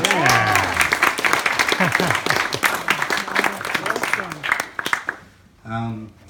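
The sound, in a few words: audience applause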